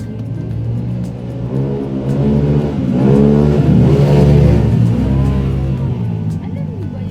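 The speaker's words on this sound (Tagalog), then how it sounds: "Ipagbawal yung ganun motor ba? Yung sobrang ingay ba?" Loud motorcycle engine revs nearby, a rumbling drone that swells to a peak mid-way and then eases back, with a voice speaking over it.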